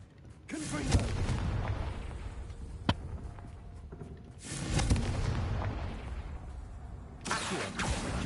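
A Confringo blasting spell going off in the Hogwarts Legacy video game, several heavy booming blasts with rumbling tails, separated by quieter gaps, each burst loud and close amid game combat sounds.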